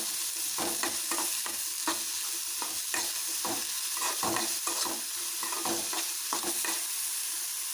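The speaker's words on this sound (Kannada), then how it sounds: "ಈರುಳ್ಳಿ ಕೆಂಪಗಾಗುವವರೆಗೂ ಚೆನ್ನಾಗಿ ಹುರಿಯಬೇಕು" Onions frying in a pan and stirred until reddish-brown, a steady sizzle broken by repeated scraping stirs, close and continuous with no talking.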